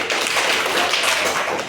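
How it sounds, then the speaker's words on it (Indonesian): A classroom of students claps together in a dense, continuous burst of applause that lasts just under two seconds. "tepuk tangan dulu"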